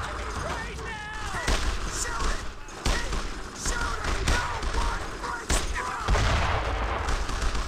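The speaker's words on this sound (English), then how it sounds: "Saved by the mortar." Mortar blasts and gunfire in the World War II shooter Brothers in Arms: Road to Hill 30, heavy thumps and cracks spread through a dense battle din, with a player's voice talking over the action.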